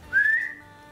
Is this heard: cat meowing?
no